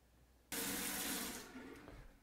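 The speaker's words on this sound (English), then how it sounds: "Now turn on your faucet to make sure everything's working properly." A newly installed bathroom faucet is switched on, water gushing suddenly and loudly into the sink basin, then settling into a steady close-up stream.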